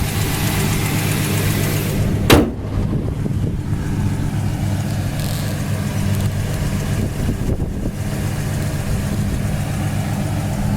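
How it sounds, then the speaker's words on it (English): A 1968 Oldsmobile Cutlass convertible with a 350 Rocket V8 idles steadily up close, a constant low rumble with one brief bump near the two-second mark. "Engine runs nice."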